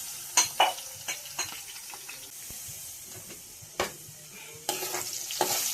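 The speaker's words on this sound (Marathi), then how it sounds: "आता आपण लसूण टाकले फोडणी देण्यासाठी बघू शकता" Garlic dropped into hot oil in a pan for a tempering, with curry leaves and garam masala already added, gives sharp stirring scrapes and clatters over a low crackle, then a louder, steady sizzle at the end.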